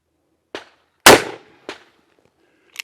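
Cimarron single-action revolver shots in .44 Magnum or 10mm: four sharp reports with gaps between them, the second loudest with a long ringing tail, fired close and outdoors with no talk.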